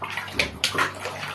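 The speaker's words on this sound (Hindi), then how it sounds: "ये देखिए अभी उसको पानी डाल रहे हैं" Water poured over a Persian kitten during its bath, splashing and sloshing in bursts close by, with a couple of louder pours over a steady running-water background.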